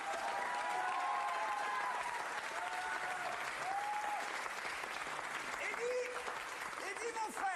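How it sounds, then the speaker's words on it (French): Warm audience applause, a sustained wash of clapping from many hands, with some cheering and voices rising over it. "Je vous demande de l'applaudir chaleureusement."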